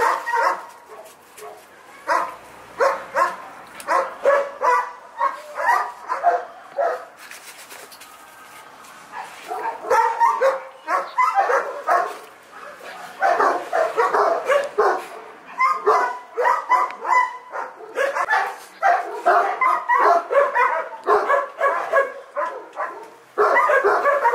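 Several dogs bark repeatedly in loud, overlapping bursts, with occasional yips and whimpers, close by and continuing throughout. The dogs may include Caucasian Shepherd dogs.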